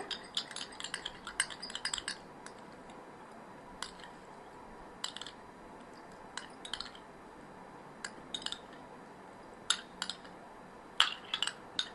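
A spoon mixes aloe vera gel in a bowl, giving scattered light clinks and taps against the side in irregular bursts over a quiet background with no talk.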